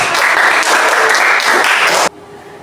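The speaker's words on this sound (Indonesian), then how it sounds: "Silakan tepuk tangan" A class applauds a presenting student group with loud, close, dense clapping that holds steady for about two seconds and then cuts off abruptly into near silence.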